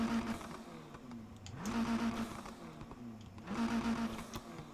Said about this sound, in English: This time we actually have the Polestar, which if you just take a listen to this engine.